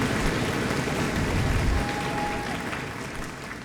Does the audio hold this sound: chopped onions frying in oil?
no